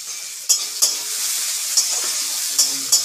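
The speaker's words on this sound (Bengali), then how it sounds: "দেখি মিডিয়াম ফ্লেমে 3-4 মিনিট আমি এড়ে কেড়ে নেব ব্রাউনের জন্য" Tenga fish fries in oil in a pan over a medium flame, giving off a steady, close sizzle broken by a few sharp scrapes of a spatula stirring it.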